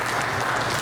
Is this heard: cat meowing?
no